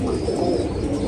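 Golden breed pigeons coo softly and continuously close by, a low throaty warble with no other sounds over it.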